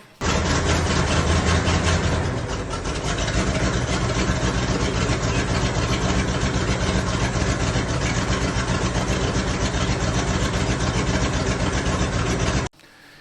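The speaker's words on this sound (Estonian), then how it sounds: "Starter on tänaseks ära remonditud ja mootor läheb ilusti käima." A repaired Mercedes boat engine idles steadily after starter work, a loud, continuous close-up rumble that holds an even level for about twelve seconds before cutting off.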